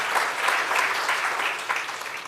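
At a digital health conference, the audience claps for the partners and panelists, a steady burst of applause that fades slightly toward the end.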